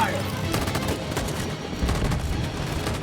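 Sustained gunfire from soldiers ordered to shoot in the video game Detroit: Become Human, a dense, loud barrage of overlapping shots with a voice audible underneath throughout.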